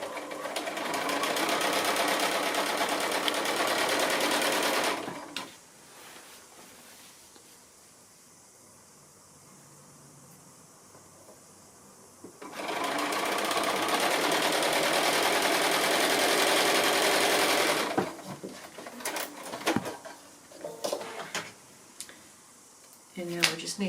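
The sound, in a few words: sewing machine stitching quilt block seams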